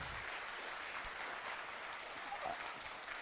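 Audience applause at a People Power Party political rally speech, a steady wash of clapping throughout, moderately distant and fairly faint, with no speech over it.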